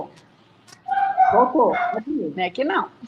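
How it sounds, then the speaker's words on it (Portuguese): A dog barks and yips somewhere off in the distance during a Brazilian online live stream, its short bursts overlapping with a voice speaking nearby. "E tem um cachorro latindo em algum lugar."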